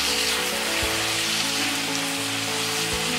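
Onions, tomatoes and spices fry in a pan over a medium flame for an onion tomato chutney, making a dense, continuous hissing sizzle that stays even and close throughout, no talk.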